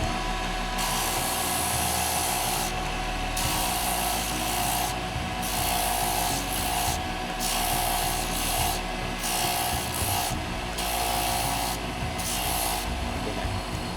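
Wood being sanded by hand with sandpaper gives a continuous harsh rasping rub in steady back-and-forth strokes, close and loud, with no talking.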